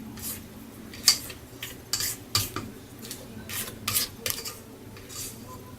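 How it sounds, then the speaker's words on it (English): A spatula scrapes the sides of a bowl of chocoflan cake batter with the mixer switched off, making a series of short, close rasping strokes with brief pauses between them and no voices. "we can scrape the sides here to make sure it all gets mixed in good"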